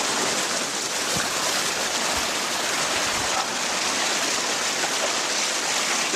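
A swollen river rushing after the heaviest rain in decades, a steady, loud, unbroken roar of churning water that fills the whole scene without pause.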